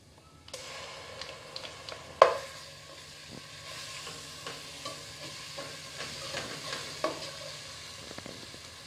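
Quiet sizzling from a pan of ginger garlic paste frying with onions fills the clip, with the scrape of a spoon stirring and an occasional clack against the pan.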